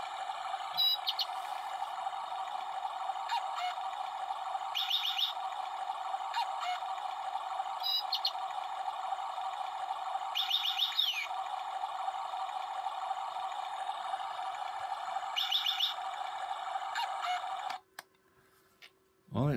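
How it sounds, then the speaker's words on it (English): An electronic calendar clock kit, a DC9-12V soldering project, plays its bird-song chime as thin, repeated synthetic chirps and tweets. The chime sits faintly over a steady electronic hum and cuts off abruptly near the end. "it's got bird sound"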